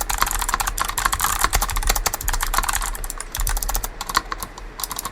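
Rapid clicky switch presses on an mx-mini mechanical keyboard, a dense run of sharp, close typing clicks with short pauses, loud and alone.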